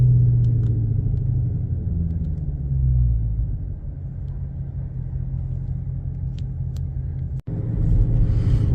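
A car drives through heavy town traffic, its steady low engine rumble and road noise heard from inside the vehicle for several seconds, with a brief thump partway through.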